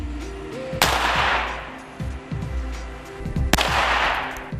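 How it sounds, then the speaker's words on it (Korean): Two loud gunshots are fired at bulletproof glass, each a sharp close blast followed by a long washing decay, with mechanical clatter and low rumble between them. "방탄유리에 총을 정조준하고 그대로 발사."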